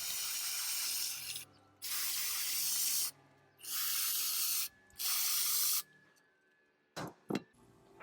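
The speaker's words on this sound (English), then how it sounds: "To clean the oil, I'm just using regular old brake cleaner." Brake cleaner sprays oil off a Toyota 4x4 transfer case in four loud, close, hissing blasts of one to two seconds each, separated by short pauses, then two quick clicks at the end.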